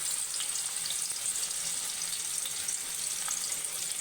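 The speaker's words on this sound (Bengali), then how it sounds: "তেলটা মনে হচ্ছে গরম হয়ে গেছে, এবার আমি একে একে মাছগুলো ছেড়ে দিচ্ছি" Hilsa fish pieces frying in hot oil, a steady, even hiss of sizzling that stays constant throughout, moderately loud and close, with no voices.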